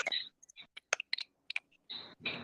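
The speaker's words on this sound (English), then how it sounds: "Is that your keyboard?" Sharp clicks of a computer keyboard, close and fairly quiet, sounding in irregular bursts and short runs with pauses between, with no talk over them.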